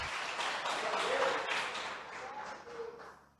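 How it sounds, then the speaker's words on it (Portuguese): A church congregation claps during a service, a soft, diffuse spread of applause that swells and eases, with voices mixed in under it. "Você pode dar uma salva de palmas bem forte"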